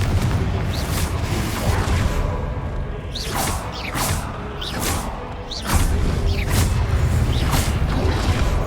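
Confringo fire-blast spells go off in the video game Hogwarts Legacy during Percival's trial, a run of booming whooshes and thuds over a dense game soundscape, with a louder rumble in the second half.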